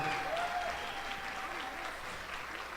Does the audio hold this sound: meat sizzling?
no